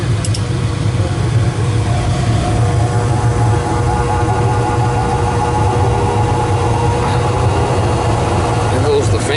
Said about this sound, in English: There goes the fan.